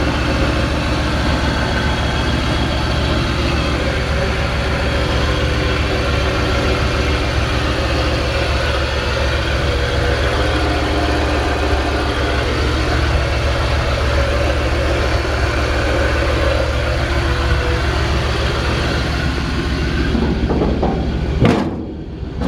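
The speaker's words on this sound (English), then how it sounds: "you could literally pull a 2000 Mustang up next to this and it'd sound just about exactly the same." A 1953 Ford F100 pickup fitted with a Mustang engine idles steadily under the hood, a low, even rumble held for about twenty seconds, then a brief clunk near the end.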